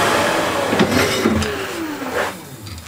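Wood lathe spinning an unidentified wood while a skew chisel cuts a small corner into the middle section, a steady close whine with gliding tonal sweeps as the tool engages, heard alone.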